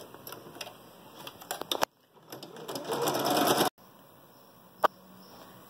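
A sewing machine stitches a 3D fabric face mask in short bursts. A quick rattling run of stitches gives way to a pause, then a longer stretch of buzzing stitches and a few scattered clicks.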